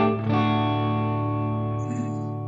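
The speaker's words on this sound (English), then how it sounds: "Plate reverb." Acoustic-style guitar chord through a Line 6 Helix plate reverb, sustained and shimmering with a smooth, dense wash that lingers and slowly fades.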